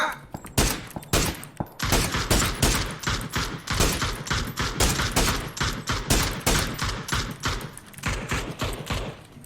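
Rapid, loud gunfire from the battle royale video game PUBG, a dense, nearly continuous stream of sharp shots running the whole way through with only momentary gaps.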